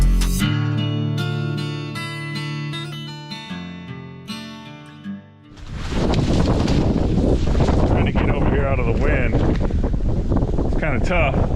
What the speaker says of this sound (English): It is windy, really windy.